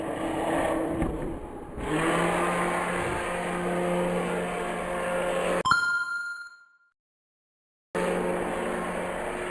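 A UDIRC 1610 Pro RC monster truck rips at full throttle with a loud, steady high-pitched motor whine and drivetrain roar, cutting off abruptly into silence before the noise resumes.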